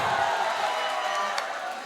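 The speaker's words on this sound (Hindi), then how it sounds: "ताली बजाकर इस्तकबाल करें" An audience at a poetry recital cheers and claps for the poet, a broad, even crowd wash with a few sharper shouts standing out near the middle.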